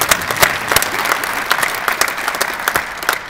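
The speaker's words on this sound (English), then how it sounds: "Round of applause," A graduating fire department EMT class is met by an audience's lively applause: many hands clapping briskly and steadily for a few seconds, with no voices over it.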